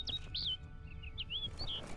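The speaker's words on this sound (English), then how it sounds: "Looks like the bird's leading me somewhere." In The Witcher 3, a bird gives a series of thin, high chirps and short whistled calls over quiet game ambience, moderately close with no speech.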